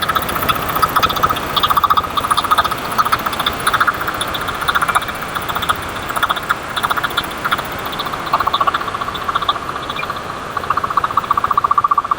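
The 9HP diesel engine of a T-2500 four-wheel weeder runs steadily and loud, with a dense rapid mechanical chatter and a constant high-pitched whine throughout, and nobody speaks.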